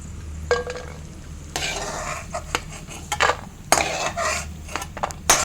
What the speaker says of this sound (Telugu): బ్రౌన్ కలర్ వచ్చే వరకు రోస్ట్ చేసుకోవాలి.